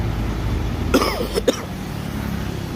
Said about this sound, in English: I've got this this wrong coughing going on here